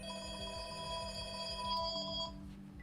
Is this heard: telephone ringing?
yes